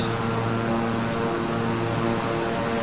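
A Beechcraft 350i King Air's propeller engines droning steadily and evenly in level cruise in Microsoft Flight Simulator, a constant, moderately loud hum with strong tonal layers and no other sounds.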